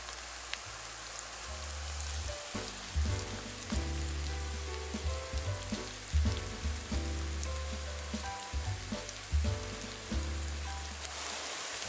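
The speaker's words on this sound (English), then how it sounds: "Then sear them for a few minutes on both sides." Chicken thighs searing in a pan, a continuous rain-like hiss and crackle that holds steady throughout, partly blended with a tonal music bed.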